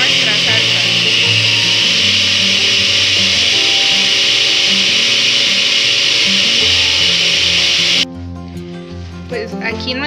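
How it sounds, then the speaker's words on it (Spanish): A blender grinds salsa for a homemade chicken soup, a loud steady motor whir that runs continuously before cutting off abruptly, leaving faint rattling and clinks as the jar settles. "Y entonces vamos a licuar nuestra salsa."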